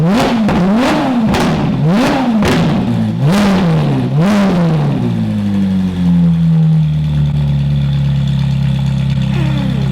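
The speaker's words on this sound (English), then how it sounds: "Time to rev." A modified Ferrari engine blips through about six sharp, loud revs close by, each rising and falling quickly, then settles into a steady idle for the remaining seconds.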